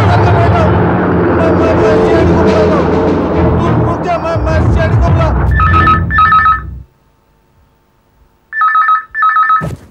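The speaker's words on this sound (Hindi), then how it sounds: "इतनी रात गए, किसका फोन है?" After a burst of loud, rumbling noise, a telephone rings in two paired trills, goes quiet briefly, then rings twice more, clear and close.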